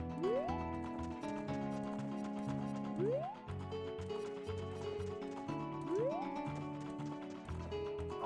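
Epona, the horse in Zelda: Ocarina of Time, gallops with steady clip-clop hoofbeats over bright game music. The hooves are close and moderately loud, and rising musical sweeps repeat every few seconds.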